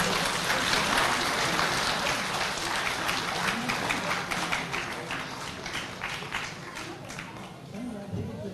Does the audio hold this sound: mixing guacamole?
no